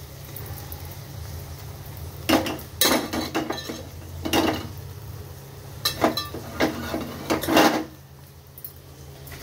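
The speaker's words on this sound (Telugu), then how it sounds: "ఇందులో రైస్ వేసుకోవాలి।" Rice goes into a metal pan for egg rice, bringing bursts of clanking and scraping as a spoon knocks against the pan, with quieter gaps between the clatters.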